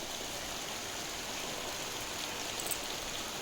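Water is poured into a cooking pan, a steady, soft rushing splash that runs evenly for a few seconds at moderate level, close by and with no voices.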